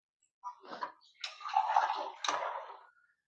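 Water poured from a tumbler into a mixer grinder jar while making a mutton curry, a few short splashing bursts followed by a longer gurgling pour that tapers off, close and fairly soft with no talking.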